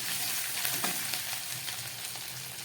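Ginger frying in a pan with cumin and coriander powder, a steady close sizzle with faint stirring scrapes throughout.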